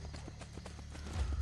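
Horse hooves clip-clop in the Assassin's Creed video game, a quick run of soft rhythmic hoof strikes at moderate distance, fairly quiet and without talk.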